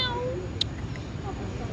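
A cat kept alongside a rabbit gives a short, falling meow at the start, then a faint tick and quiet background murmur follow.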